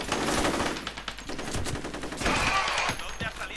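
Rapid bursts of gunfire from the video game F.E.A.R., loud and dense across the whole stretch, with rattling automatic shots layered over a smoky combat scene.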